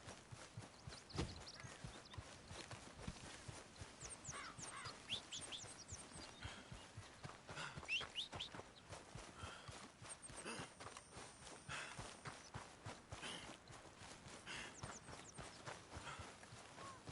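Horse hooves clip-clop at a walking pace in Red Dead Redemption 2, faint and steady over an outdoor game ambience with occasional bird chirps.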